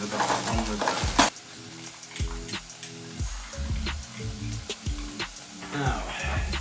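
Mushrooms sizzle in a frying pan while a spatula scrapes and stirs them, giving a soft steady frying hiss under repeated close clinks and scrapes of the utensil against the pan.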